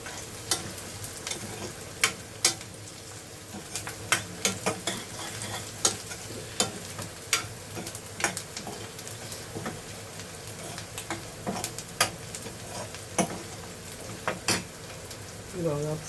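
Chopped onion cooks in a pan in a small home kitchen and is stirred now and then: a soft steady sizzle runs underneath while a spoon scrapes and taps the pan in irregular bursts, with faint household noise around.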